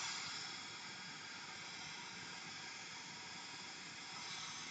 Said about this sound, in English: So first we'll start with white noise